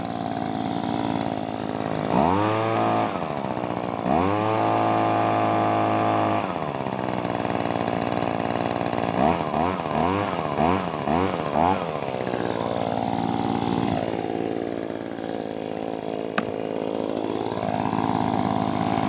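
An Echo PB2520 gas leaf blower's two-stroke engine runs loudly and close, rising and falling through several sharp throttle revs between a steady buzzing drone.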